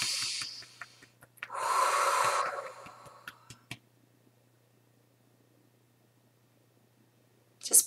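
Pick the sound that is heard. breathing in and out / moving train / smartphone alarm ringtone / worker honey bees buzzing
breathing in and out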